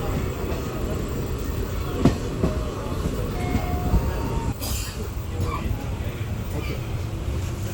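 An unreserved passenger train on the Medak to Kacheguda route rumbles along the rails with a steady low roar, a brief metallic squeal and a few clanks partway through.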